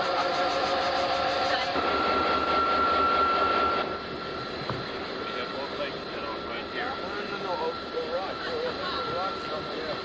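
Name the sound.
locomotive in a rail yard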